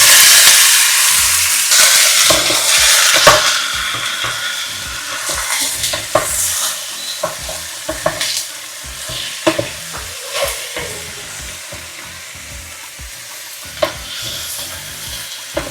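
Chicken pieces for curry fry in hot oil, giving a steady loud sizzle broken by repeated scrapes and clicks of a spoon stirring in the pan.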